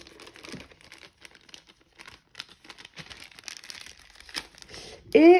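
Plastic packaging holding wooden diamond painting items crinkles and tears as it is opened, with dense irregular rustling close by and a brief voice at the end.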